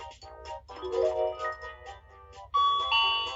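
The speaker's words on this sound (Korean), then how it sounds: "조랑말이 초인종을 누르자 여우가 반갑게 맞이했어요" Two-tone ding-dong doorbell chime used as a sound effect in a children's story, ringing clearly with bright tonal notes and then sounding a second time louder near the end.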